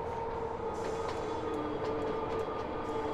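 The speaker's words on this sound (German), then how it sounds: "Berliner S-Bahn und der französische S-Bahn nebeneinander" Berlin and Paris S-Bahn trains in Train Fever roll along with a steady rail hum and drone, a faint clatter now and then on top, a continuous passing-train sound at moderate level.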